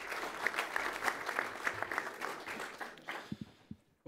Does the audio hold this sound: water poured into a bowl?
no